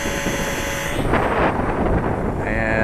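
Strong wind buffets the microphone at an RC plane flying field as an Eachine Mini Mustang P51D model flies, a steady loud broadband roar that surges near the middle and runs alone throughout.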